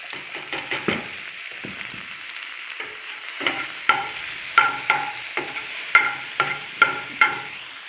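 Chopped onion frying in two spoons of ghee, a steady close sizzle with a spoon scraping and knocking against the pan in a run of sharp stirring strokes, no voices.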